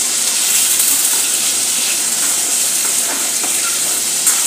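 Baby potatoes fry in hot oil for dum aloo, a steady close sizzle and hiss with faint crackles and no talking.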